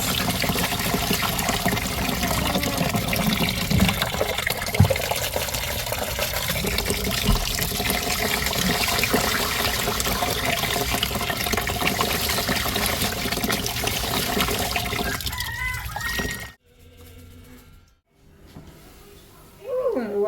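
Tap water runs steadily while rice is rinsed by hand, a continuous splashing wash that cuts off abruptly near the end, followed by a brief lull and a faint return of sound.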